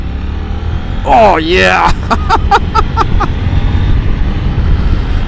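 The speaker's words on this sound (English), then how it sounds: "I'm not using my clutch most of the time, just riding it using the quick shifter, shifting down." Motorcycle ridden hard and downshifted with a quick shifter, no clutch: a rising engine howl followed by a rapid series of about six sharp blips or pops, close and loud, with a rider's excited shout at the start.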